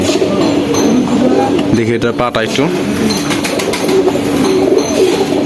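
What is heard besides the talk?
pigeon cooing, local red high-flyer pigeons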